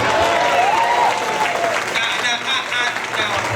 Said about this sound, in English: get a dancing machine a round of applause